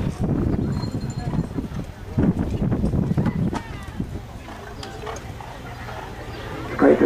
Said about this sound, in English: And on the course now, we have our second competitor in the Annabelle Taupo Grand Prix, and it's Maurice Bigson riding My Gollywog